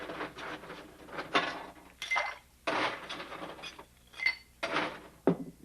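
Ice cubes clattering and clinking into a cocktail glass for a rum drink, several bright, hard bursts of clatter in irregular clusters, close and fairly loud, no speech.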